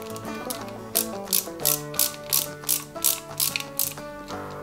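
Small screw driven into a part of a 1/8-scale Mercedes-Benz 300 SL model car kit, heard as a close, loud run of rapid ratcheting clicks in an even rhythm.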